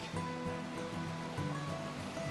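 Blackburn Creek flowing at a creek junction along a hiking trail, a steady soft rush of running water heard continuously and fairly close, with no talking.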